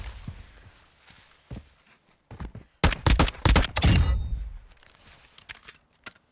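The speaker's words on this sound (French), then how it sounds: "Balle de snipe." In a video game firefight, a sharp sniper rifle crack lands amid a dense cluster of loud gunfire bursts, with quieter rustles and scattered shots around it.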